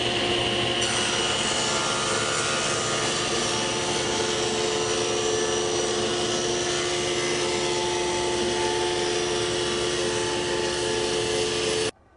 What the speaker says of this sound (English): make a rip cut that'll cut this edge parallel to this one